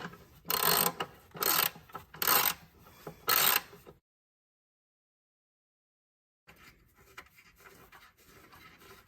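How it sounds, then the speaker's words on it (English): Ratchet with a 10mm socket loosening nuts on a 2013 Dodge Journey 3.6L, heard as four loud, even bursts of rapid clicking, then a pause and quieter scraping and handling noises. "I'm going to use a 10mm socket with a ratchet. Take these 2 nuts off."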